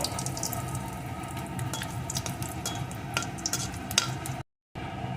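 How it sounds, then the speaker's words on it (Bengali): Dried red chilli and black cumin seeds frying in hot oil as a tempering for a vegetarian cauliflower-stem dish, giving a steady close sizzle with light stirring scrapes throughout and a brief cut near the end. "এখন এই তেলের ভিতরে দিয়ে দেব একটা শুকনো লঙ্কা কিছুটা কালো জিরে ফোড়নটাকে সুন্দর করে একটু ভেজে নেব"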